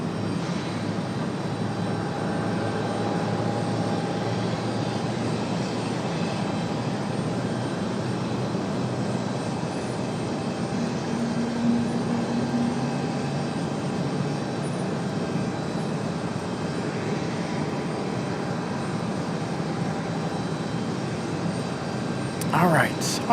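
A Delta jet departs Raleigh-Durham airport, a broad, steady roar of engines holding for over twenty seconds at moderate distance, while someone talks intermittently over it.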